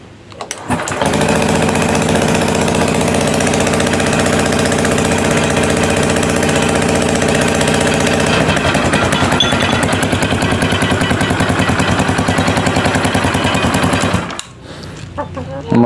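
A Honda Vario 150 scooter with keyless ignition starts up and settles into a steady, loud idle lasting about thirteen seconds, with a change in engine tone partway through before it cuts off.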